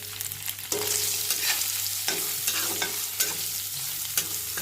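Paneer cubes fry in ghee in a hot iron wok, giving a steady close sizzle broken by repeated scraping stirs, with no voices.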